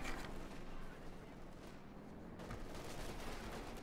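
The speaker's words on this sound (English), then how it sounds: "The 50 cal was on the scene and hosing down those Crouch with good old American 50 cal fire" Sustained American .50 cal machine gun fire from a Company of Heroes 2 match, a dense continuous rattle of rapid shots filling the whole stretch alongside other battle noise.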